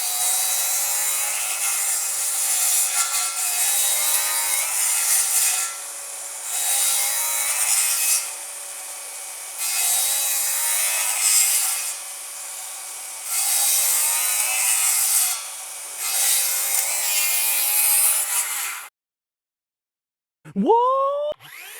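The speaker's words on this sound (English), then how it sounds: "plunge cuts through a treated 6x6" A FLEX 24-volt cordless rear handle saw plunge cutting through a treated 6x6 timber, loud rasping cuts in four long passes separated by short pauses, then silence and a brief rising whine as the motor spins down.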